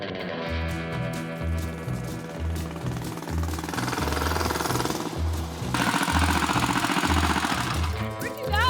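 A small engine runs steadily after warming up, its rapid rhythmic knocking pulse loud and close, rising slightly in intensity partway through with some faint voice underneath.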